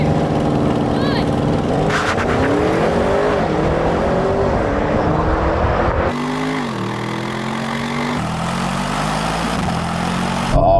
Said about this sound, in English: We've got the new BMW M5 Touring and the good old Audi RS6 Avant. And I'm going to race them over the standing quarter mile.